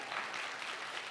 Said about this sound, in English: you can applaud for that too, right?